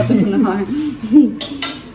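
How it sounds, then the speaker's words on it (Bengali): Plates and bowls are washed, with a few close, bright clinks and clatters of dishes knocking together, and a voice speaking over them. "এখানে আমরা থালা বাটিগুলো ধুইতেছি"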